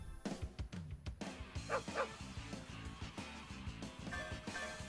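A cartoonish dog barks and yips in the Windjammers 2 beach bonus stage, the short barks sitting over upbeat game music and chiptune effects.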